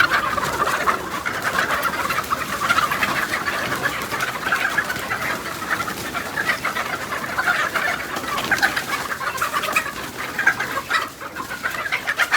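Chicks and ducks call constantly near a pond being dug, a dense, busy chorus of high peeps and cheeps with no pauses and no talking.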